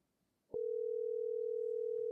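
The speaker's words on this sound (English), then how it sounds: "A lot of dudes calling her phone." A steady telephone dial tone sounds while a phone call is placed, one continuous unbroken hum starting abruptly and holding clear and level, with no voices over it.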